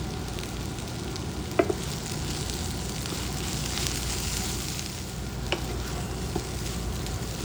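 Plantain slices frying in a pan with salt and turmeric, a steady close crackle and hiss throughout with a couple of brief clinks.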